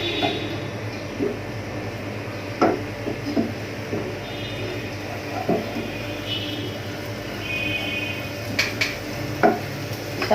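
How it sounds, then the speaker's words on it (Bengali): Onion paste goes into hot oil for a radish greens and small prawn curry, giving a steady low sizzle with occasional soft knocks and scrapes of a utensil against the pan. "আমাদের তেলটা গরম হয়ে গেলে এখানে আমরা পেঁয়াজ বাটাটা দিব।"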